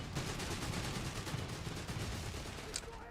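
Sustained MG42 machine gun fire from the video game Company of Heroes 3, a dense rapid rattle of shots running steadily throughout at moderate level with a brief sharper crack near the end.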